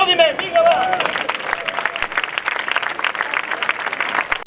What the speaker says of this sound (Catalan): un aplaudiment, vinga va